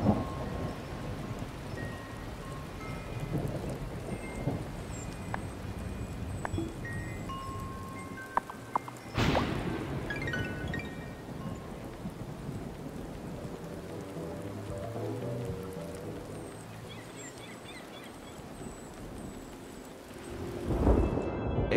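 Rain falls steadily in the Wylde Flowers video game, with a sharp crack of thunder midway and a louder rumble near the end, over soft, patchy background tones.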